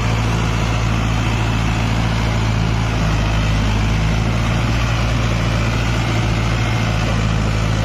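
A Mahindra Novo 655 tractor fitted with a 9-foot Parm rotavator runs with a steady, loud, close diesel drone, a low rumble that holds constant without any speech.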